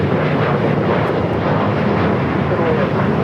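Jet airliner roaring at takeoff from Los Angeles International Airport, a loud, steady broadband rumble that fills the whole stretch without a break.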